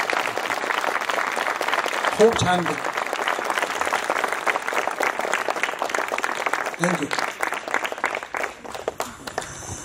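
Applause at a police pre-recruitment training farewell event: a crowd claps steadily for several seconds before it tapers off, with a voice speaking briefly over it.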